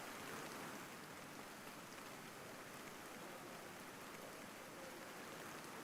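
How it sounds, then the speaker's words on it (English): Rain falls steadily on a racetrack in the iRacing sim-racing game, a soft, even hiss with no breaks. It is faint and continuous throughout, with no voices. "the rain is coming down a little bit harder"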